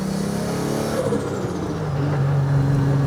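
Isuzu bakkie fitted with a 300kW 2GR engine accelerating hard, its steady engine drone rising in pitch through the run, loud and close throughout with no talking.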